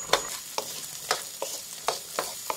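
Chinese sausage, sausage and carrot are stir-fried in a pan, with a steady sizzle under evenly spaced scrapes and tosses of the spatula, close and alone.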